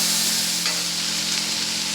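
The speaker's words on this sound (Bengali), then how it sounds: "আলুটাকেও ভেজে নেব।" Potatoes frying in oil with salt and turmeric give a loud, steady sizzle at close range with a faint stir, no talk.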